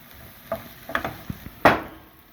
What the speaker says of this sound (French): Nous allons rajouter d'abord les oignons préalablement. Nous allons bien faire revenir.